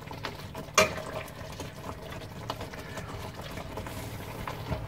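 Pasta water boiling in a pot on a low flame, a soft, continuous bubbling and simmer with a single sharp clink of cookware early on, quiet and close.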